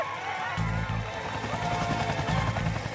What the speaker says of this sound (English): It was absolutely crucial to have a fucking helicopter here.